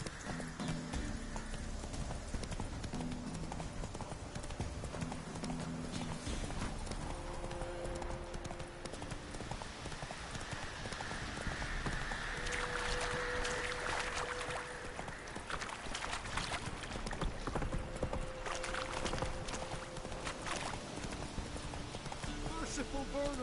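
Roach, the horse from The Witcher 3, gallops in steady clip-clop hoofbeats throughout, with game music and effects layered over the running.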